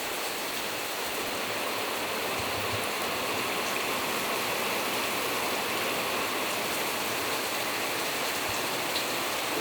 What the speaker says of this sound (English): But look at this rain.